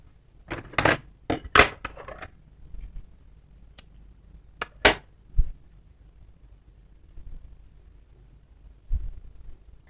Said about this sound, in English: Now you can cut the yarn.